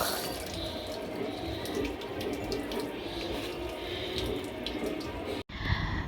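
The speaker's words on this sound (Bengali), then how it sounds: "এবার পাতাগুলোকে ধুয়ে দেওয়া যাক।" Tap water runs steadily into a sink as banana leaves are washed under it, a continuous splashing close by that stops abruptly near the end.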